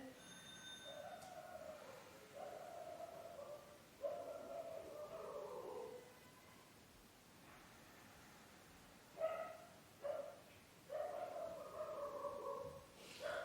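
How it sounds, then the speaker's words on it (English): Faint, somewhat distant dog barks come in several bursts, with short runs of yaps and pauses between them, as the dog reacts to something at the door in a quiet room. "So this is something at the door, my dog's going mental."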